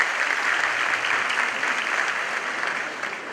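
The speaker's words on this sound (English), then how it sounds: "may you rise so that we give you a round of applause." An audience at the Supreme Court's 150th anniversary lecture at Manhyia Palace gives a dense, sustained round of applause for the Court of Appeal justices, steady throughout and easing slightly at the end.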